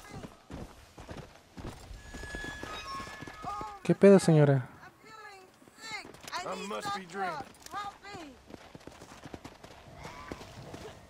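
Rhythmic hoof clip-clop from a trotting horse in Red Dead Redemption: Undead Nightmare, mixed with game sounds, under frequent Spanish talking from a speaker.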